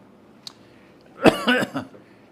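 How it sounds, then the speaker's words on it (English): A single harsh cough, close and fairly loud, in a quiet room, preceded by a faint click. "You'll have to excuse me, my cough."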